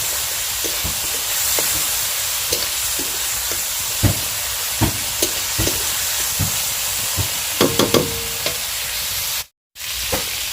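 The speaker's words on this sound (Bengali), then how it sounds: "এখানে মশলাটা কষিয়ে নিচ্ছি আমি হালকা হালকা জল দিয়ে" Spice paste fries in a pan with splashes of water, a steady sizzle punctuated by sharp spatters and stirring scrapes, close and loud, with a brief dropout near the end.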